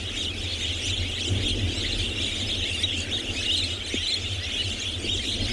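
A bird calls continuously near its nest on a sunrise safari at Tswalu in the Kalahari, a steady high churring buzz running unbroken through the whole stretch amid faint open-air ambience.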